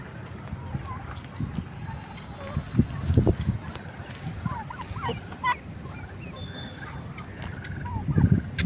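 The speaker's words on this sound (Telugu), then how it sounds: "ఇదో రకం కోడి" Village poultry, including a breed of chicken kept alongside ducks and ducklings, calls in short clucks and gobbling bursts at close range, scattered through the yard with someone speaking over parts of it.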